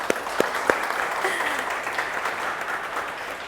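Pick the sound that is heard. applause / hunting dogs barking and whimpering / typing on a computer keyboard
applause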